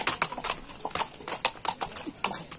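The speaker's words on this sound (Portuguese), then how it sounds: "Eu tava pegando essa égua aqui" A mare's hooves clip-clop in a quick, uneven rhythm at close range on a field before a race, the sharp knocking steps continuous and fairly loud.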